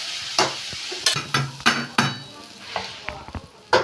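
Shrimp frying in oil in a pan, a soft sizzle broken by a series of sharp spatula scrapes and taps against the pan at irregular intervals, close up.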